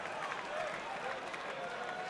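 A lively, packed darts crowd at the International Centre in Bournemouth applauds steadily, a dense wash of clapping and cheering from the hall with faint voices mixed in, holding an even level throughout.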